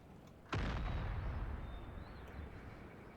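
Skirmisher troops firing muskets in Empire: Total War, one sharp loud volley followed by a long rumbling decay and faint scattered shots in the distance.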